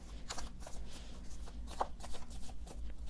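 Tea leaf reading cards are shuffled by hand in a soft papery riffle, with repeated bursts close by and no talking.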